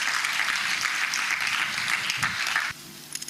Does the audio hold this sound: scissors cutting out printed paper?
no